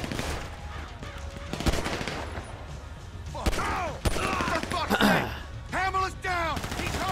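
Scattered gunshots during a Grand Theft Auto firefight, sharp isolated cracks and short bursts mixed with squealing tires, horns and voices in a busy street scene.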